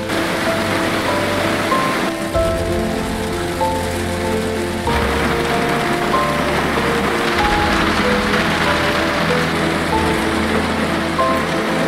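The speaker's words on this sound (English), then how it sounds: "No sign of this rain stopping." Steady rain falling during a session declared wet, a dense continuous hiss at close range throughout, with some tonal hum and faint background noise mixed underneath.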